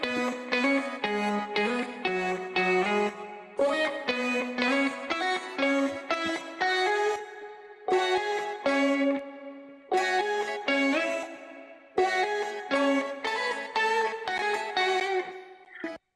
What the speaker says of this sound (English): So if I play all the melodies for that sort of drop section,